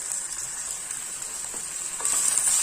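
Ginger garlic paste sizzles in hot oil for an egg curry, a constant bright hissing fry with soft stirring touches that grows a little louder toward the end.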